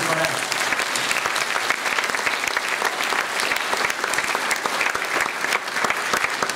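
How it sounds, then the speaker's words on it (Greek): An audience applauds steadily at a presentation, a dense, loud wash of clapping hands that holds without break throughout. "Παρακαλώ να τα χειροκροτήσουμε τα παιδιά για μια ακόμη φορά."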